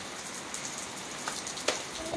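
Rain falls steadily, a soft, even hiss of drops with a few sharper patters standing out, heard alone with no voices over it.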